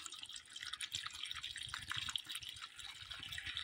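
Wine poured into a marinade bag, a soft, steady trickling of liquid with faint dripping and splashing running throughout, quiet and close.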